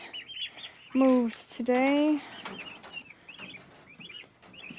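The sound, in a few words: turkeys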